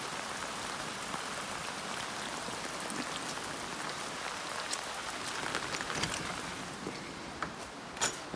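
Heavy rain pours down steadily on a farm, a dense, even hiss of drops striking surfaces with occasional sharper close splashes.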